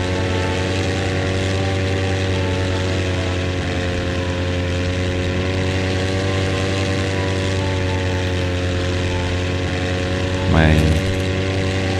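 An airplane flying in the AR city-builder game Wall Town Wonders gives a steady, droning propeller hum that holds at an even level throughout, with a brief spoken word near the end.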